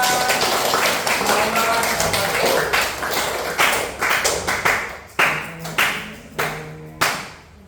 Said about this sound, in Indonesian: Naura, pintar sekali, tepuk tangan buat Naura